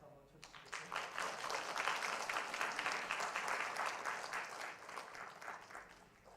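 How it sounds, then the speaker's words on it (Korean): A church congregation at a Sunday service breaks into applause after a baby's first attendance, a sustained wash of clapping that swells quickly and stays even, slightly distant in the hall. "우리 칭찬 박수 한번 쳐주시겠어요?"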